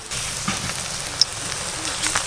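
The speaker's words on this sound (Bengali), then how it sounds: "সব বড়াগুলোই ভেজে নেব এরকম করে চ্যাপটা চ্যাপটা করে।" Flattened drumstick flower fritters fry in hot oil with a steady, even sizzle, close by and moderately loud, with a faint clink partway through.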